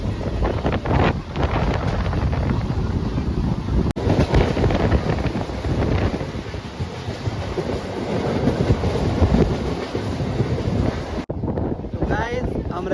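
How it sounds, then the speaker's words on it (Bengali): A passenger train pulls away and runs on its rails, a loud, continuous rumble with rhythmic clatter, heavy wind buffeting the microphone, and a sudden drop near the end. "ট্রেন ছেড়ে দিয়েছে, তো চলো যাই।"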